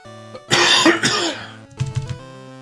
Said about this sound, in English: I do apologize for all the coughing.